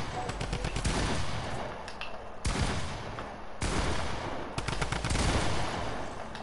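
A small video game gun fires as sustained, loud bursts of gunfire in three long volleys separated by brief gaps.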